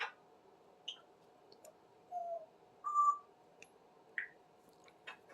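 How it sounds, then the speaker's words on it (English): Pet bird Smokey gives scattered short chirps, clicks and a couple of brief whistled notes, faint and sparse in a quiet room. "Smokey the bird. You're such a pretty girl, Smokey."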